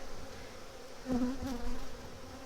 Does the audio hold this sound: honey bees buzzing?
yes